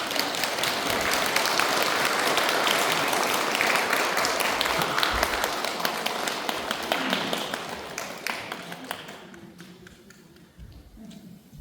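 Applause from an audience at a Won Buddhist temple service, a dense, even wash of many hands clapping that holds strong and then thins out and fades toward the end.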